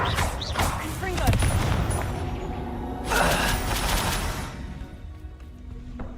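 Confringo fire spells go off in Hogwarts Legacy as a string of loud, crackling blasts, with a heavier burst of bangs midway, while a voice talks throughout.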